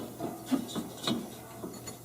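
Drive belt being worked onto the rear pulley of an MTD variable speed riding mower, a series of faint close rubbing and scraping strokes in an uneven rhythm, heard alone.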